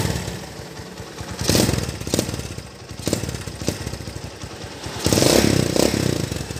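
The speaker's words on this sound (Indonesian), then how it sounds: "sumpah ini motor halus banget mesinnya" A 2003 Honda Tiger motorcycle engine running near the listener, a steady putter with rhythmic mechanical ticking and clatter that swells louder in two surges, heard without speech.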